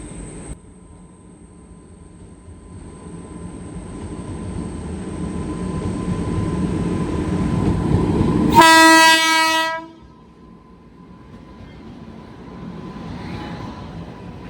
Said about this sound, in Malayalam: മധുരൈ ഗുരുവായൂർ എക്സ്പ്രസ് ഇപ്പം ഇങ്ങോട്ട് വരും